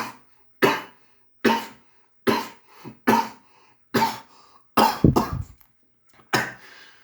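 A series of separate, forceful coughs with throat clearing, about eight bursts spaced by short silences, close to the microphone.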